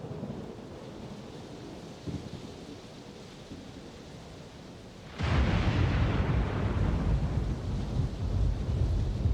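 Stormy night ambience in the video game Elden Ring Nightreign: a steady low rumble and hiss that suddenly surges into a louder, dense roar of wind and rain with a heavy thunder-like swell, continuing strongly to the end, no talk.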